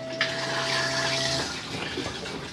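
Motorhome cassette toilet flushing, a steady rush of water alone for a couple of seconds with a brief tonal hum at the start that then stops.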